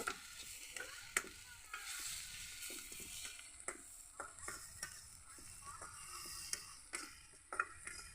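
Tomatoes sauté in a pan for a salted dried fish curry, a soft continuous sizzle broken by frequent light scraping and tapping of a stirring utensil, fairly faint and without talk.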